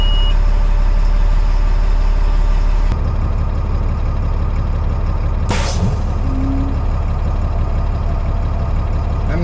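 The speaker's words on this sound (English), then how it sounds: "it's letting air out of the tires" Compressed air from an LMTV truck's central tire inflation system hisses continuously over a loud engine idle, with a sharp cutoff, then a brief burst of high-pitched air release and a short tone near the end.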